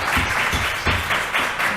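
Audience applause fills a Georgia State Election Board meeting room, a dense steady wash of many hands clapping with a few louder swells, heard alone without talk.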